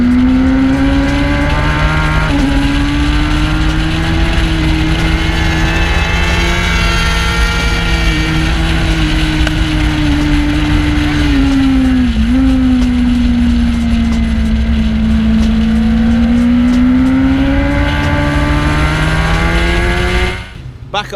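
A 2016 Kawasaki ZX10R motorcycle at full power, a loud, sustained high-revving engine scream that rises and dips through gear changes for about twenty seconds before cutting off abruptly at the end.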